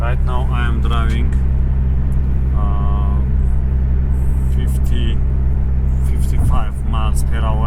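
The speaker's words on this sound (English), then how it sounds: "Right now I am driving" Car cruising steadily at 55 mph in sixth gear, a constant low engine and road rumble heard from inside the cabin, with someone talking over it.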